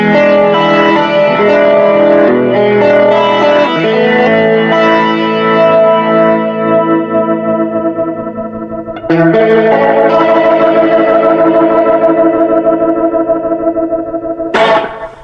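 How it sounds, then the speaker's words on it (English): A vintage Leslie 16 rotating speaker cabinet plays sustained chords loudly, with a swirling, warbling chorus-like wobble; a fresh chord comes in midway and a bright burst sounds near the end. "once I turn the Leslie on, now you're hearing the Leslie."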